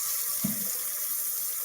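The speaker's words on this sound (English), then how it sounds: "I'm going to go ahead and put the water in here" Tap water runs steadily into a pot to boil pasta for a Tuscan chicken dish, a continuous broadband hiss with a brief low splash near the start as the stream hits the pot.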